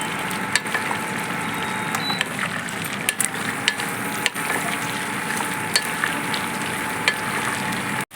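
Broccoli and green peas stir-fried in a pan for broccoli pea rice, with a continuous close sizzle and scattered clicks and scrapes of a spoon mixing, ending abruptly.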